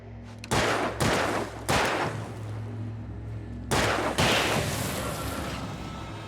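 Gunshots ring out in Alan Wake Remastered, five heavy reports in two groups: three spaced bangs, a pause, then two more. Each shot trails off in a long reverberant tail over a low steady drone.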